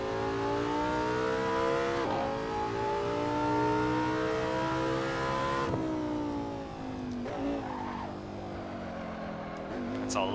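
A race car engine in Assetto Corsa revs and climbs through its range in long rising sweeps, dropping briefly at each gear change, loud and steady with a strong harmonic drone.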